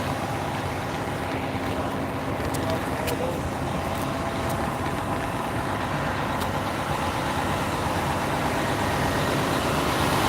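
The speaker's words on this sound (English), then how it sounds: "There's a garbage truck." Garbage truck engine idling on a city street in Denver, a steady loud low rumble filling the whole stretch, with a few faint clanks and someone talking over it.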